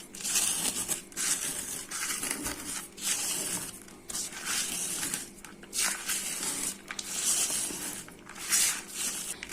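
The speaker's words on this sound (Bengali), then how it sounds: "আমি পেঁয়াজ, মরিচ, লবণ একসাথে মিশিয়ে নিচ্ছি" Onion, green chili and salt are squeezed and mixed by hand for potato chop, making close, wet crunching and squishing in repeated rhythmic bursts with brief pauses.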